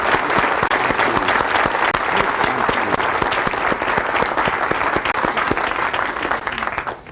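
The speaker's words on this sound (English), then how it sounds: "Let's give Zig one more well-deserved round of applause." A large seminar audience gives sustained applause for the motivational speaker Zig Ziglar: many hands clapping in a thick, continuous roar that stays loud throughout and fades slightly at the very end.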